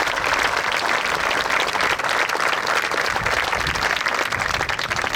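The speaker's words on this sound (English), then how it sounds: "please join with me now in thanking and honoring them today with a very warm and well-deserved round of applause" A large outdoor crowd at a Veterans Day ceremony on Mount Soledad gives warm, sustained applause, a dense, even roar of clapping hands that holds steady throughout.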